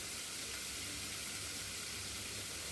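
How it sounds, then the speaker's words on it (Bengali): Marinated chicken pieces frying on high heat, a dense, even hiss of sizzling oil that stays steady and close throughout, with no voices or other sounds. "শুধু চিকেনগুলোকে তুলে তুলে আমি এটা ভালোভাবে ভেজে নেব"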